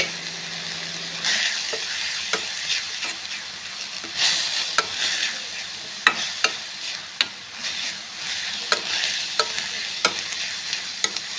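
Grated coconut frying in a pan for paddu, a steady bright sizzle with scattered scraping stir clicks throughout, close and alone.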